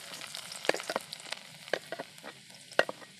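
Garlic hitting hot oil for butter garlic Maggi noodles, a close, fizzy sizzle broken by sharp clicks and spatula taps, fairly quiet and with no talk.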